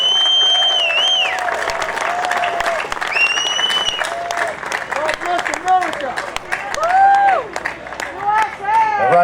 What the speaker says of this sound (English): let's give a round of applause one more time for our armed forces members